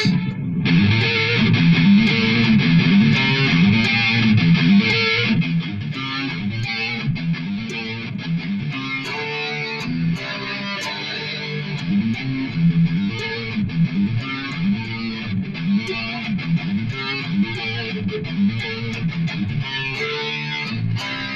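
A distorted electric guitar plays a driving, repetitive riff with sharp, ringing tapped harmonics over chugging low tones, loud and continuous.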